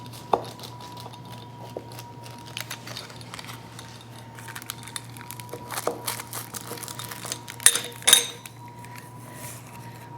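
A knife slices through a crispy tomato tart on a plate, with sparse scrapes and crunchy cuts against a quiet room hum, building to a few sharper clinks near the end.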